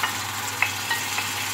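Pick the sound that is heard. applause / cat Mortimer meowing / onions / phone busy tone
onions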